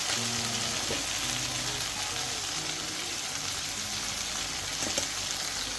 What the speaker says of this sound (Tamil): இப்போ நாங்கள் ரைஸை போட்டு பிரட்டுவோம்